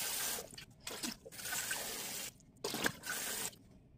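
Sweet potatoes washed under running water in a sink, a close splashing and trickling stream that swells and drops in bursts with brief quiet gaps between them.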